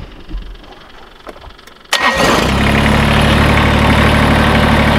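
A Kubota BX2380 compact tractor's engine cranks and catches about two seconds in after faint clicks and rustling, then settles into a loud, steady, close-up idle rumble.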